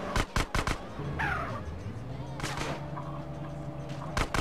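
Gunfire in GTA San Andreas on PS2 aboard a ship: several sharp shots at the start and a few more near the end, over a droning engine hum with game sound effects between.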